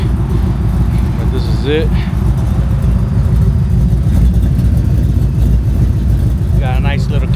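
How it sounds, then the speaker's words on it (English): A Ford Mustang with a stick shift and an aftermarket cam runs at a steady, loud idle, a constant low rumble that fills the whole stretch while someone talks over it. "I have the Mustang out and running."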